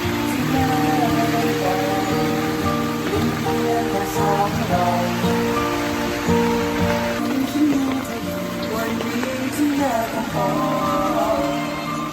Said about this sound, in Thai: นี่ตอนนี้ก็ฝนเริ่มซาลงแล้ว เดี๋ยวตกหนัก เดี๋ยวซา